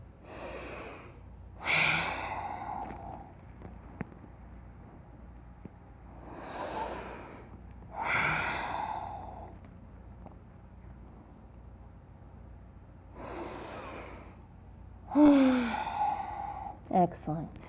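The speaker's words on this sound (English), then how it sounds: "Oh, let's breathe for a few." Deep breathing during a relaxing yoga flow class: three slow cycles of audible inhale and exhale, close and soft over a faint steady hum, with no talking.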